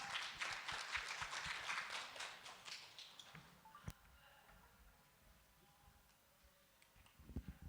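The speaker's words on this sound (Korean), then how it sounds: "여러분 큰 박수 부탁드립니다." An audience at a media industry conference session applauds a speaker with a burst of scattered clapping. It is faint and fades after a few seconds into a quiet hall with a few stray taps.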